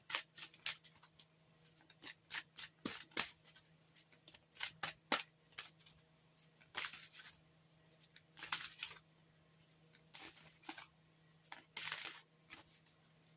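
Oracle cards being shuffled by hand, quiet crisp riffling bursts that repeat in quick irregular clusters, close up over a faint steady hum.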